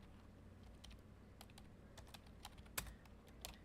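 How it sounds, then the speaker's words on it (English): Rapid typing on a computer keyboard during an online Curse of Strahd tabletop game session, a quiet steady stream of soft clicks with a few sharper key strikes, no talking. "Typing so fast leads to bad words."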